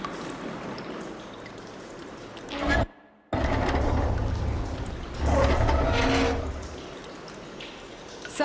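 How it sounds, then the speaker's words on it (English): Water rushing and pouring in an enclosed room in the video game Horizon Forbidden West, a steady broadband flow that cuts out briefly before surging back louder. "Aloy, I can hear water in the room again"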